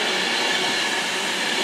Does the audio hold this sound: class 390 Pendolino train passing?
yes